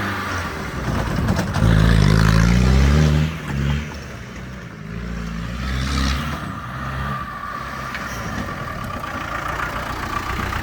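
A Ford Mondeo ST200 engine revs up and accelerates nearby, a loud low rumble swelling early and then settling into a steadier running drone.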